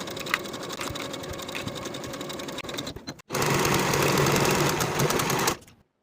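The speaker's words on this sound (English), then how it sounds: "Now we can sew these together on both sides with a 5/8 inch seam allowance" A sewing machine sews the side seams of a peplum top in two close, steady runs of rapid rhythmic stitching, separated by a brief stop, with no voices.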